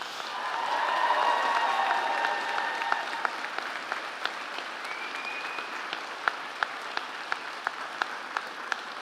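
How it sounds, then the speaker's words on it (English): A graduation ceremony crowd gives loud applause with cheers, a broad wash of clapping that swells early then dwindles to a handful of sharp, spaced single claps. "I mean, really loud applause and cheers."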